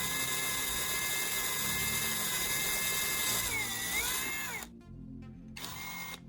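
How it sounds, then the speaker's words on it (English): A conical drill bit bores a large hole through the centre of a lid, a loud continuous high-pitched whine that holds steady and then briefly cuts out before starting again. "I'm using a conical drill bit to create a larger hole in the very center of the lid."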